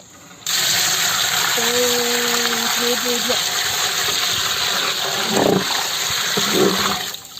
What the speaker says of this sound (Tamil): ஒன்றரை பக்கெட் நான் ஊத்திடுறேன் தண்ணி